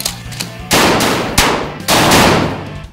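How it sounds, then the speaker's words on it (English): Three loud, close gunshots from an AR-15 rifle, pistols and 12- and 20-gauge shotguns fired at a cheese factory, each sharp crack trailing into a long echoing decay, with one brief pop between the larger blasts. "We shot an AR-15. We shot a couple of pistols. We shot 12 gauge,"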